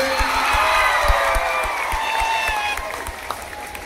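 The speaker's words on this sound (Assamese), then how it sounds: "এতিয়া কুসুম কৈলাশৰ তেওঁ দলটোৰ কাৰণে এটা ডাঙৰ হাত চাপৰিলে।" A large audience at a student function in Assam breaks into sustained, loud applause for a performing group, with dense clapping and a few faint whoops throughout.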